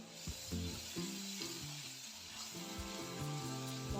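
Ginger-garlic paste with turmeric, Kashmiri red chilli powder and salt frying in oil, a soft continuous sizzle with occasional stirring, quiet and close, with a low tonal hum running underneath.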